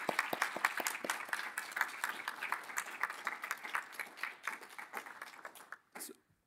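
Applause from the audience at a university panel on environmental sustainability goals, a dense patter of many hands clapping for about six seconds before it thins out and stops, moderately distant and fairly quiet.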